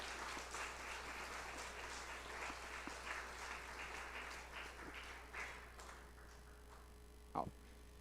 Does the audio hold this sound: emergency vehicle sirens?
no